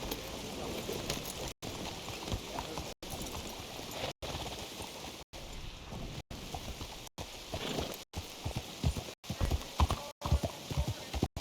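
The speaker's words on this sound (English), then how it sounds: "Fine horse you got there." Horse hooves clip-clop steadily in Red Dead Redemption 2, a continuous walking rhythm close by, with brief total dropouts breaking the sound at regular intervals and a faint whinny possible.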